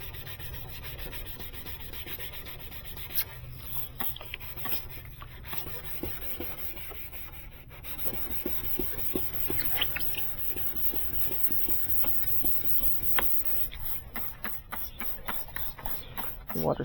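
Soft, close wet sanding of a 2020 Hyundai Tucson headlight lens during restoration, with irregular rubbing and scraping strokes, quiet and intermittent, growing a little busier toward the end.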